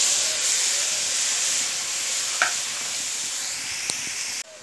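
Finely chopped radish sizzles in hot oil in a pan for a Bengali radish fry, a steady bright hiss with a couple of faint clinks of stirring, close by and without talk.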